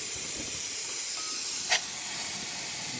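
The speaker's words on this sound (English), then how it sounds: "And now for the steamer." An espresso machine's steam wand lets out a steady, close hiss of steam after a full service, a broadband rush that holds throughout with a brief brighter burst partway through.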